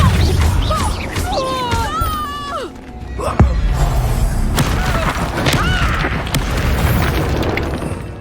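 A Confringo fire spell bursts in Hogwarts Legacy with a sharp blast about midway, amid ongoing game effects, rumble and character voices speaking around it.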